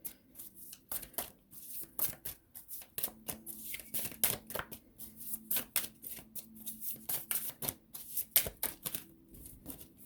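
Tarot cards are shuffled close up in quick, uneven bursts of crisp riffling and slapping, with short pauses between bursts and no talk over them.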